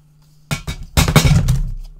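Scissors chopping through paper for a handmade Christmas mini album: a few crisp snips close to the microphone, a short pair followed by a louder rustling cut, with no talking.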